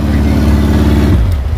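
A self-built mini Jimny 4x4 off-road vehicle at a muddy off-road gathering, its small engine revving hard and steady nearby, rough and throaty, then dropping back to a lower idle near the end.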